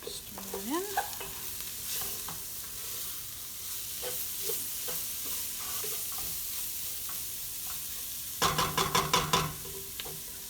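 Peas and rice frying in a pot as a teaspoon of cinnamon is stirred in, a constant sizzle under scattered spoon scrapes. A burst of rapid clanking stirs comes near the end.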